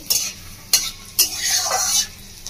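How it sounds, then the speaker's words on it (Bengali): Whole spices for a Bengali tempering, including cinnamon, fry in hot oil, loud close scrapes of a spatula in the pan over a rising sizzle. "ফোড়নটা ভালো করে ভেজে নেবো।"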